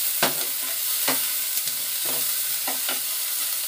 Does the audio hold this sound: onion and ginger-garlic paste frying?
yes